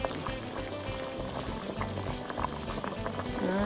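Beef karekare stew bubbling in a pot, a steady bubbling boil with soft liquid churning that runs continuously and moderately loud, with no talking.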